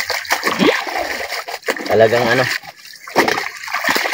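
River water splashes and sloshes close by during laundry washing at a low-flowing river, in short irregular bursts heard beneath a person talking.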